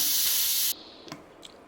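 A pressure cooker of Telangana-style toor dal charu releases steam in one loud, close, continuous hiss that cuts off abruptly and is followed by a couple of faint clicks.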